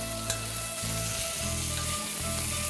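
Steady sizzling of food sautéing with Marsala wine in a pan, a constant frying hiss with a few brief stirring clicks, loud and close throughout.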